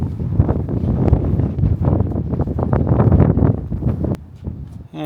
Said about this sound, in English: Today's a really windy day,